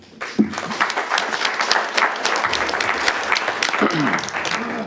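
Applause at a Cherokee tribal council meeting, a dense, steady round of clapping from the audience lasting several seconds, with some voices mixed in.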